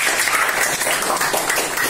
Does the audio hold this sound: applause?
yes